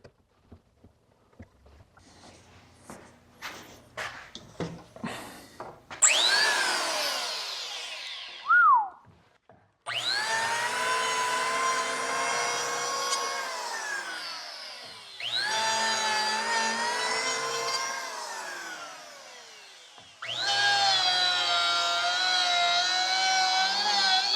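A Makita hand planer fitted with a helical cutterhead starts with a few short knocks, then makes three long, loud passes of whining, rasping cutting, each separated by brief pauses.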